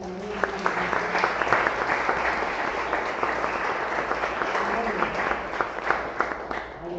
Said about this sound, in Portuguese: Você pode aplaudir o Senhor também.